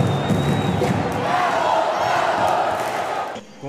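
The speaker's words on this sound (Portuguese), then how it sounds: "A torcida dos dois vizinhos foi para o ginásio Costa Cavalcante dar o apoio à equipe" A packed gym of futsal fans at Ginásio Costa Cavalcante in Foz do Iguaçu roars continuously with dense, loud crowd cheering and shouting that holds steady before dipping briefly at the end.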